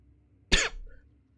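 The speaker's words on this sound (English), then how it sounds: "Oh god, I gotta cough again." A single sharp cough, close and loud, rises abruptly from a quiet background and fades quickly into a short raspy tail.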